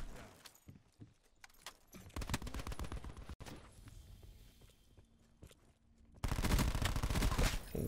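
Gunfire in a PUBG-style shooter video game comes as rapid bursts of shots, bunched and fairly close, breaking into a dense, loud volley near the end, with little talk over it.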